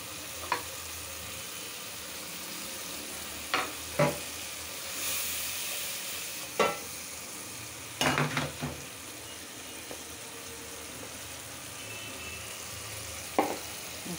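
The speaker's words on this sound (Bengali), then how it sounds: "মশলাটা কষানো হচ্ছে।" Spices sautéing in a pan, a steady close sizzle and hiss throughout, with occasional sharp scrapes and clinks of a spoon stirring against the pan.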